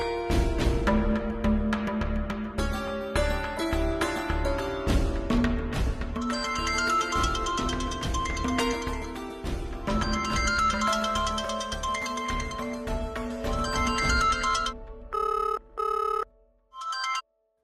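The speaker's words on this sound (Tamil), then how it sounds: "ஒருவேளை வசந்த் எனக்கு ஃபோன் பண்ணிருப்பானோ?" A mobile phone rings with a bright, repeating melodic ringtone, loud and close, with no talk, playing on for several seconds before cutting off in short stuttering bursts.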